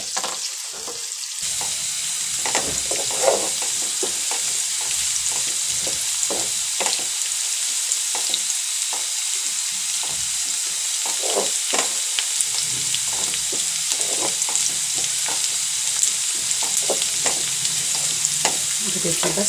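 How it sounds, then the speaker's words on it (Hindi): Onion, ginger and green chilies fry in a pan with a constant close sizzle, broken by frequent scraping and clinking of a spoon stirring, with no talk. "प्याज को, बस हल्की इसको फ्राई करते हैं"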